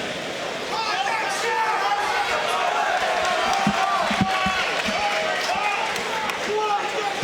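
Noisy crowd at a paratroopers' boxing match, a loud continuous roar of cheering and shouting voices filling the hall throughout, with scattered yells rising above the din.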